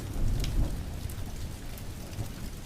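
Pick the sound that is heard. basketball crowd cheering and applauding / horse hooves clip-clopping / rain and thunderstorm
rain and thunderstorm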